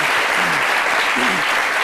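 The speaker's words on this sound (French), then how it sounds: "je demande des applaudissements." Loud, dense applause from a television studio audience during a women's day special, a close continuous roar of clapping with faint voices underneath.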